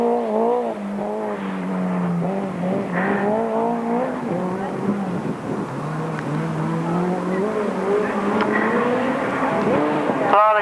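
Grasstrack racing motorcycles on a final lap at an international meeting in 1992, engines roaring and rising in pitch continuously throughout, with a commentator talking over them.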